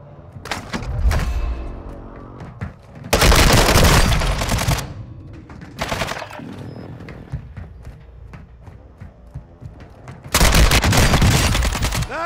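A close air support strike in the video game Warzone, heard as loud bursts of rapid gunfire and heavy blasts in several separate waves, alternating with quieter stretches, close and dense.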